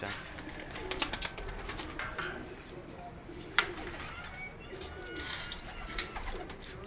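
Pigeons cooing on a Rawalpindi rooftop amid a busy outdoor scene, soft low coos and wingy chirps mixed with background voices and a few sharp clicks, fairly faint overall.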